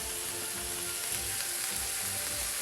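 Steady, even sizzle of breakfast food frying in a covered pan, a continuous hiss with small crackles, close and without talk.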